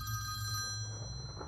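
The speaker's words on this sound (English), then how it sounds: "Let's answer the phone." Telephone in the indie horror game Faint Call ringing, a short electronic bell tone that holds steady and then fades, heard alone and fairly quiet.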